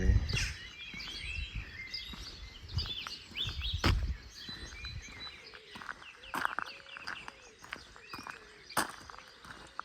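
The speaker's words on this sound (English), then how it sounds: "These birds are going crazy." Many birds call and chirp along the northern Irish coast in short, scattered bursts, some near and some farther off, with occasional soft footsteps and rustling underneath.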